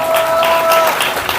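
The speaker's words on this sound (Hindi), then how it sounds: "ताली बजा के प्रभु के नाम को महिमा करें।" Applause from a church congregation during a Hindi-language Christian sermon, a short loud burst of many hands clapping together, with a sustained tone running under the first part.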